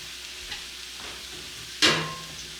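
Low background hiss, then a sudden loud sizzle as water hits a hot pan on a cook stove, tapering off into steady bubbling.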